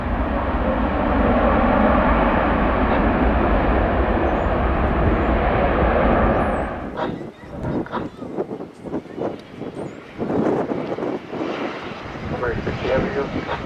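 Jet airliner taking off from runway 18 left at Dallas Fort Worth International Airport: a steady, loud engine roar that drops away partway through, followed by gusty wind and rumble noise, with no talk.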